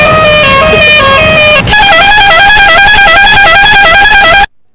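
A fancy musical horn fitted to a road vehicle blares loud and close, playing a warbling multi-tone pattern that switches to a faster repeating melody partway through and runs on without pause.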